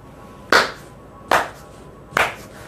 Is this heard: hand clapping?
yes